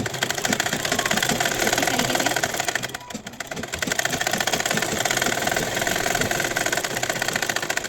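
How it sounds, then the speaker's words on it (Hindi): A sewing machine runs a straight double-stitch seam down a kurti while a sleeve is joined, whirring steadily and loudly up close with a short dip partway through. "फिर उसके बाद डबल सिलाई सीधा आप उतार दीजिएगा नीचे तक"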